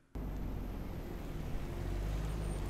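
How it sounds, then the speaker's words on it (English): A police vehicle pulls up in a TV drama scene, a steady low engine rumble that stays close and even throughout, with no voices. "police vehicle, pulling up"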